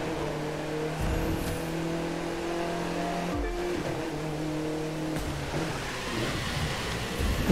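Race car engine in The Crew 2 racing game, a steady loud droning rev with shifting pitch and brief breaks as gears change, with faint tire noise and no talking.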